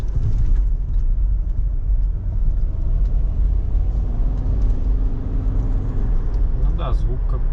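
A Subaru Forester with a 1.8 turbo engine drives along, giving a steady, loud low rumble inside the cabin while people talk over it.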